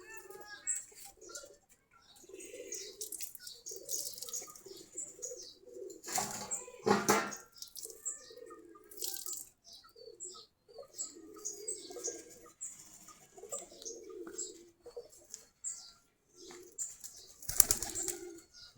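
Domestic pigeons from a flock of about 45 pairs coo softly after feeding, with a few sharp bursts of wing flapping nearby and some faint chirps scattered through.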